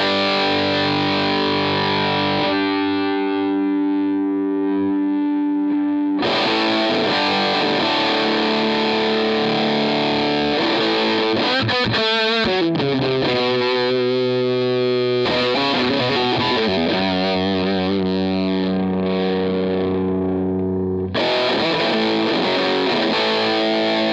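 Electric guitar driven through a Marshall-style gain pedal into a Vox AC30 amp, playing loud, sustained distorted chords and riffs with a fuzzy edge, broken by brief pauses and choppier passages, with no talk.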